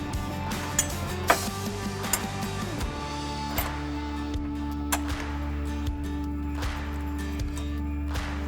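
A fog light bracket on a 2019-2020 Ford Ranger is tightened with a ratchet, giving a steady series of metallic clicks over a continuous mechanical hum, close up with no talking.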